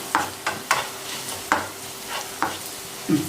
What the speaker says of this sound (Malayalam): ജസ്റ്റ് ഒന്ന് ഇളക്കി ഇത് മുളകും ഉള്ളി എല്ലാം കൂടെ ഇതിലേക്ക് മിക്സ്